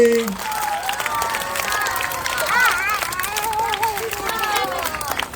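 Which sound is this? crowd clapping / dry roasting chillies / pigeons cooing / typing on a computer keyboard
crowd clapping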